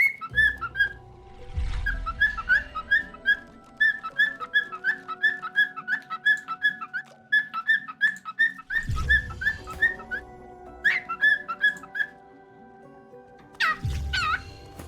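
A pet bird whistles and sings right beside the listener in bright, repeated chirping phrases with a steady rhythm, loud and close, with a few low thumps and handling noises underneath.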